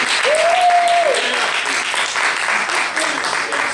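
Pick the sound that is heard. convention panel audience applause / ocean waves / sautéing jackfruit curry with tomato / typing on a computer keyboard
convention panel audience applause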